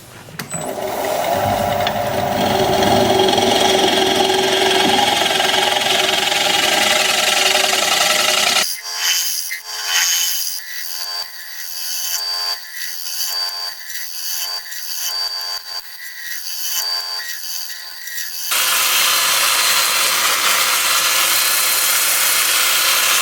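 A sycamore piece spins on a wood lathe while a tool scrapes it, giving a continuous rough, raspy scraping with a steady mechanical hum underneath. The sound shifts to a thinner, lighter rubbing partway through before the fuller scraping returns.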